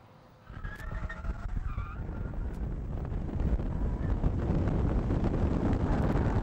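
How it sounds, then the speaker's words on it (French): Sports car sliding through a corner, a rising rush of tire and engine noise with brief squeals, heavily buffeted by wind across the microphone, growing louder and steady. "La mettre en glisse est tellement facile et amusant qu'il devient difficile de se contenir"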